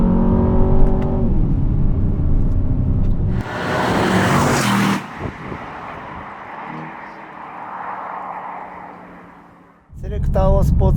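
A 2025 Aston Martin DBX707 SUV cruising in Terrain mode on Hakone roads: a steady engine drone, then a loud rushing whoosh that fades into continuous tyre and wind noise, with the engine note returning near the end.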